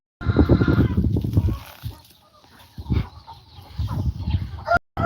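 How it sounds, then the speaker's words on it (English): A broiler chicken kept for a full year on a farm clucks close by in a rapid burst, goes quiet, then gives a few more low clucks, with light background noise in between. "This is a broiler chicken when the broiler chicken goes for a full year."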